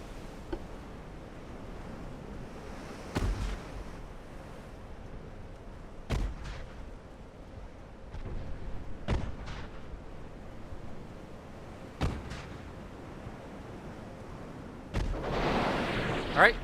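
Dull booming torpedo impacts on warships in the naval game Ultimate Admiral Dreadnoughts, a handful of deep thuds spaced a few seconds apart over a low rumbling sea ambience, ending with a louder sustained roar.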